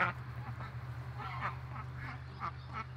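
A duck on a farm with nursing piglets quacks repeatedly in short, raspy bursts at irregular intervals, moderately close but soft, over a steady low background hum.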